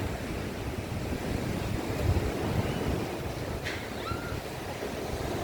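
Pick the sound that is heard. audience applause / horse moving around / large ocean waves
large ocean waves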